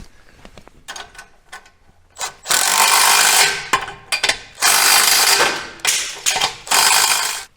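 Bolts are tightened while a Chevy/GMC 6.0L exhaust system is installed, with close, loud bursts of a power tool or ratchet in several runs of about a second each, after some lighter metallic clicks.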